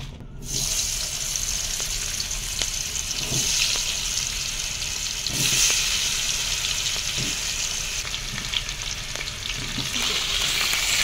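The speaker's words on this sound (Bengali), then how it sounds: "এদিকে তো আলু ভাজা চলছে।" Potatoes fry in oil with turmeric and salt, a steady, close sizzle broken by a few soft knocks of stirring.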